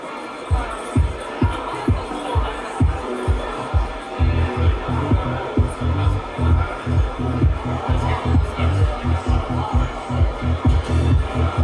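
A 2025 Volvo EX30 infotainment ambient soundscape (Nordic Twilight): rhythmic low thumps under a murmuring crowd-like wash of voices, busy and throbbing rather than calm.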